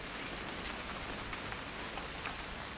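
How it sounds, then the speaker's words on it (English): Rain in the video game What Remains of Edith Finch, a steady dense patter of drops striking a surface, constant and moderately soft with no voices. "It's gonna rain the whole weekend, isn't it?"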